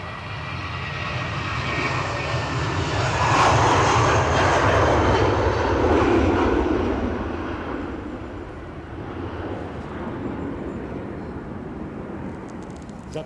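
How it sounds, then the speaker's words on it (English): A British Airways jet rolls for takeoff at Edinburgh Airport, its engine roar building to a loud broadband peak midway, then easing into a steady, slightly distant rumble. "Oops, rolling. British Airways off to HQ."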